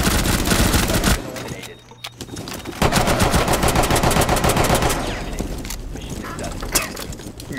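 Rapid machine-gun bursts from a video game shooter, loud and dense, running almost continuously with a short break and stuttering fire throughout.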